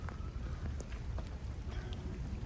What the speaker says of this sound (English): And as you can see, it's really raining a lot.